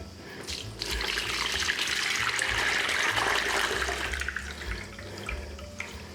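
Curdled milk for homemade cottage cheese poured through a cloth-lined colander, a continuous close gush of liquid swelling and then tapering off, with splashy trickling.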